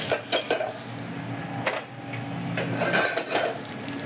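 Onion and celery sweating in Anchor butter in a pot as the base of a traditional seafood chowder, with a quiet sizzle under repeated clanks and scrapes of a utensil against the pot.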